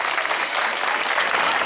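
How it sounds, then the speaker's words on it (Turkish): Applause for the master instructors and teachers at a school's year-end exhibition in Atatürk school, a dense, steady crowd clapping without break, loud and close throughout. "Bir alkış istiyorum onlara."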